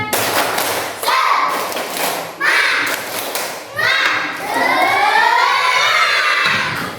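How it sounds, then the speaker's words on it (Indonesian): A class of schoolchildren in an Aqidah Akhlaq lesson repeats the tepuk semangat clapping chant: bursts of shouted young voices over rhythmic claps and thuds, loud and near, with a brief pause between rounds. "Ulangi lagi tepuk semangat."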